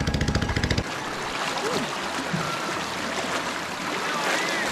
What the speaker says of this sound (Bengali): স্রোতে কিন্তু মনে হয় যেন আমাকে টেনে নিয়ে যাচ্ছে ওই দিকটা, এত পরিমাণ স্রোত এইখানে